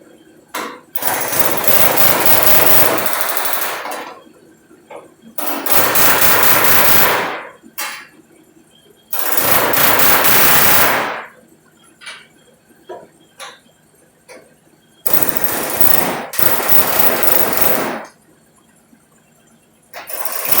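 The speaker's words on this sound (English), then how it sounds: "But I'm gonna chisel anyway, so it's gonna be kind of loud anyway. But we'll chisel this off." Loud bursts of rapid pneumatic chiseling, each a few seconds long, hammering off spot welds on a car quarter panel in repeated runs, with quieter workshop clatter between them.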